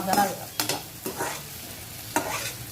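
Deseeded tomatoes are tossed and fried in a pan, giving a low sizzle broken by several scraping stirs and soft knocks, close and fairly quiet.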